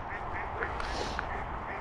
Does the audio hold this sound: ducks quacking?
yes